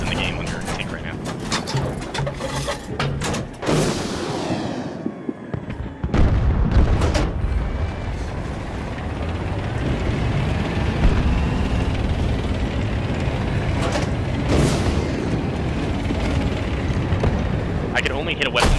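A tank fires missiles in the Battlefield 2042 video game: sharp booming blasts and explosions punch through continuous loud rumbling battle noise.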